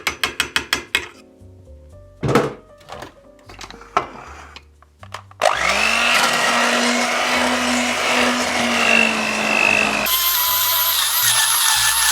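A few knocks and clicks, then an electric mixer switches on and whirs loudly and steadily, its motor whine holding constant before shifting pitch near the end.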